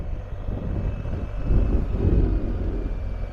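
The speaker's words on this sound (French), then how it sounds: "Là, je laisse écouter le bruit du moteur." A BMW R 1250 GS motorcycle from 2021 runs at a steady low rumble, swelling slightly midway, heard nearby and alone.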